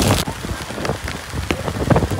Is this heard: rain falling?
yes